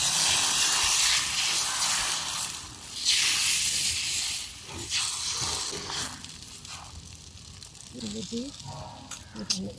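A steady, broad hiss of steam rises and wavers throughout, with faint clattering and a brief voice near the end.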